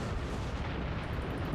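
Naval cannons firing in a World of Warships sea battle, a dense, sustained rumbling roar of artillery that stays loud and even throughout, with no distinct separate shots standing out.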